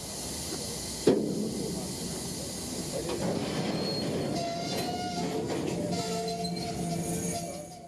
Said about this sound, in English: 4 loaded scrap gondolas are pulled from the spur and past the switch